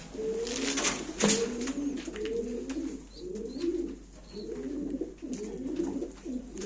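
Racing pigeons cooing continuously in rhythmic, overlapping calls, close and fairly loud, with faint background sounds and no speech.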